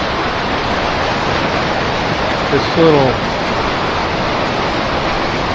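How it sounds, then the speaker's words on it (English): A small river waterfall rushes in a steady broadband roar close by, with a brief splash partway through as a fish jumps up it; a voice speaks briefly over the water. "Just trying to jump up that waterfall right there."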